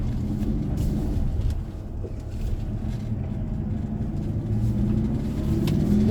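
A 2020 Great Wall Steed twin-cab ute with a 2.4L petrol engine and five-speed manual drives off bitumen onto loose gravel, its engine and tyre roar a steady, close rumble throughout with no speech.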